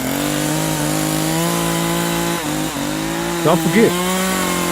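A chainsaw runs loud and steady throughout, its engine note holding with slight dips, while a voice speaks briefly over it near the end.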